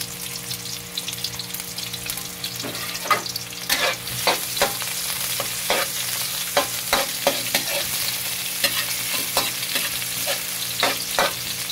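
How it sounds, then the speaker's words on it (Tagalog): Onions sautéing in hot cooking oil, with a steady close sizzle and repeated scrapes and clinks of a spatula stirring the pan. "Lagyan natin mantika. Igisa natin ang sibuyas."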